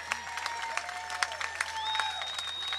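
An audience applauds at a Cajun zydeco festival in New Orleans, producing steady clapping and crowd noise from a big outdoor gathering, with a lingering tonal hum underneath and no clear speech.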